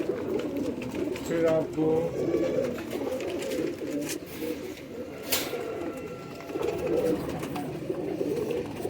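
Pigeons of the Faqeer gull and black-faced breeds coo in low, soft, repeated calls close by, while someone talks over them.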